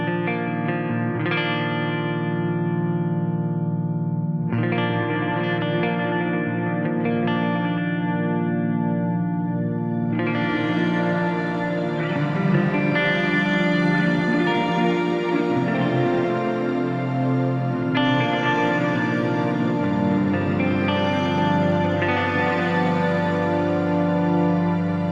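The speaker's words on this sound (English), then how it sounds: "I've gone to the Y state of the reverb, which is a South Church reverb." Electric guitar played through a Fractal AX8 South Church reverb with delay and an Eventide H9 shimmer, sustained chords and notes blooming into long washes of ambient, echoing tails, played alone with no talking.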